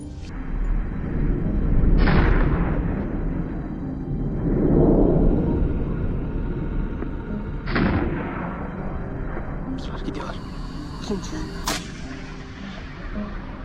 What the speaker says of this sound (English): I immediately took a shot at the lead boar